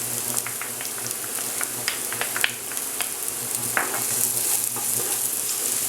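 Garlic fries in a pan for a pastitsio meat sauce, making a dense, continuous crackling sizzle with scattered pops and spatula stirs, close and steady throughout with no talking.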